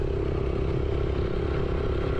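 An Iranian 125 motorcycle engine drones steadily while riding on a rough road, a constant close mid-pitched hum with wind and clatter and no clear speech.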